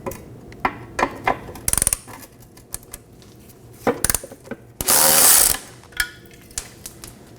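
Bracket bolts come out of a 2015-2023 Nissan Maxima 3.5L V6 rear vapor canister: ratchet clicks in short bursts, metallic clinks and a loud rushing burst of a power tool, close up with no talk.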